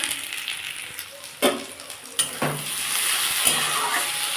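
Chopped vegetables for a vegetarian spinach chorchori fry in a pan with a steady close sizzle, broken by a few sharp scrapes and knocks of a spoon stirring against the pan.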